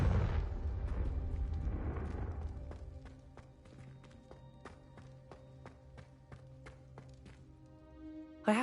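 A Confringo fire spell blasting in Hogwarts Legacy: a loud roaring whoosh that holds for about two seconds and then fades, leaving a steady run of soft, evenly spaced tapping beats.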